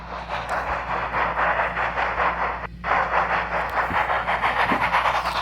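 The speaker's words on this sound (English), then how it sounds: "Thomas would have to take the mail train to the harbor" Toy-style mail train engine rolling steadily along rails, with continuous rumbling clatter and rhythmic wheel beats at close, constant loudness and a brief dip midway.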